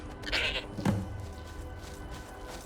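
Goat bleating in the video game Skyrim: a single nasal bleat near the start, followed by a soft thump, over low game ambience.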